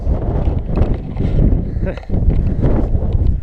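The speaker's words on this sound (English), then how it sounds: "Wind's back." Strong wind buffets the microphone on an exposed hilltop walk on Moel Famau, a loud, continuous low rumble with gusts that briefly ease and return.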